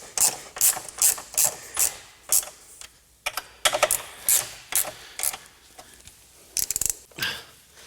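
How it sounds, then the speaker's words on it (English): Sharp, close clicking bursts of a ratchet tightening side step bolts on a Land Rover Discovery, in short repeated runs with brief pauses between strokes. "give them all a final little nip with a ratchet"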